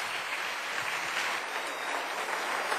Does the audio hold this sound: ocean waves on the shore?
no